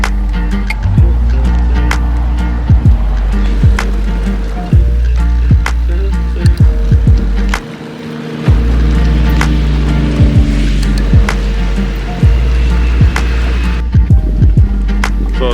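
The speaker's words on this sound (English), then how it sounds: "So we got about 12 minutes left in this first spin cycle." An RV washing machine churns through its spin cycle, giving a steady low mechanical drone broken by repeated knocks and thumps and one brief pause partway through, with no talking.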